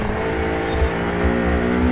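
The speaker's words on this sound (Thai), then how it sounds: "นี่ครับ เสียงเครื่องยนต์ VTEC Turbo ครับ" A Honda Civic Type R VTEC turbo engine in a racing video game hums steadily and revs up, a continuous mechanical drone with a slight rise in pitch, loud and close.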